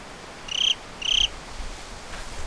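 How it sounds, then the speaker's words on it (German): Two short, bright cricket chirps sound in quick succession in the Slender: The Arrival video game, clear against a quiet, faintly rustling night background. "Ich glaube, es waren Grillen."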